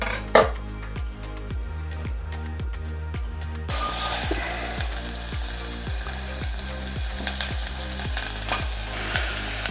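Diced vegetables sweating in a pan for a boerewors sauce, a soft sizzle that swells loud partway through, with a regular series of clicking stirring scrapes throughout.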